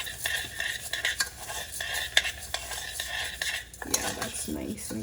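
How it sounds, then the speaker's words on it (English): Rice coated in oil, salt and garlic juices is stirred in a pan with a gentle sizzle and repeated scraping clicks of a utensil against the pan, close and steady with no talk. "coat all the rice. So stir it. Make sure it's coated with oil and salt and like the garlic juices."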